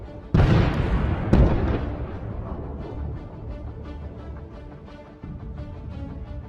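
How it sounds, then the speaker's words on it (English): A mine explodes under a T-72 tank near Avdiivka with a loud, sharp blast. A second heavy boom follows about a second later, then a long rumbling, crackling decay with more thumps. "A mine is tearing a hole in the bottom of this tank."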